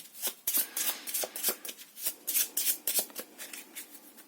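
Tarot cards being shuffled during a reading, a steady run of crisp riffling and flicking bursts, close and fairly loud, continuing throughout with no voices.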